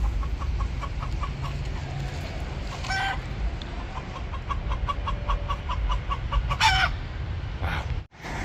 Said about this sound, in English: Look at that rooster.